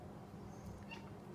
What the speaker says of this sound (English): my cat was on the counter where he's not supposed to be